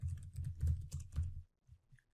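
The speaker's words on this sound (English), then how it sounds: "I'm going to type product B so you guys get an idea." Quick clattering keystrokes on a computer keyboard, a close, fairly quiet burst of several taps for about a second and a half, then silence with two faint final clicks.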